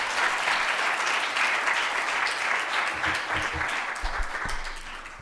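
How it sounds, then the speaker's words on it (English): An audience applauds an introduced guest author at a mayor's youth speaker series event: a dense, steady wash of clapping that holds for several seconds and tapers slightly near the end. "please give her a big round of applause"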